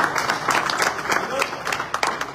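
Applause from a gathered audience for chief guest Ankur Kumar Gupta at a car delivery event, a steady wash of clapping that runs throughout with voices mixed in.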